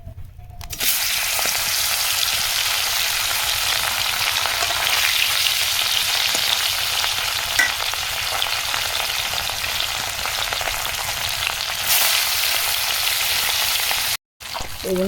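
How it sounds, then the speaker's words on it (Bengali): Fish frying in hot oil in a wok (kadai), seasoned with turmeric and chili, gives a loud, steady, continuous sizzle that runs almost the whole time, with only a brief dropout near the end. "তেলটা গরম হয়ে গেছে, এখন মাছটা দিয়ে দিব।"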